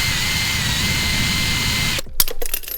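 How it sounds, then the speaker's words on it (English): A power drill whirs steadily for about two seconds, drilling out the staked area of a stainless steel steering rack nut on an Integra, then stops, followed by a few clanks and handling noises. "So let's just drill that out real quick."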